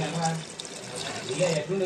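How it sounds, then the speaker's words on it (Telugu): Water runs and splashes briefly into a pressure cooker up close while mutton keema curry is cooking, a soft gurgling pour lasting a couple of seconds, with someone speaking over it. "దీంట్లోనూ కొంచెం వాటర్ వేసుకుందామండి"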